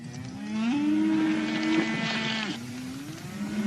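A grazing cow gives one long, loud, drawn-out moo close by, and a second moo begins near the end, in an old western TV show. No other voices.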